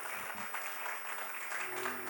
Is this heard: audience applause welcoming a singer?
yes